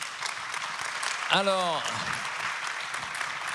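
Dense audience applause closes a talk at the POwR Earth Summit on the global energy transition, a steady hiss of clapping that fills the room while someone briefly speaks over it.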